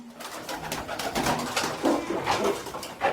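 Pigeons coo softly and repeatedly at close range, low rounded calls rising and falling over a faint background rustle.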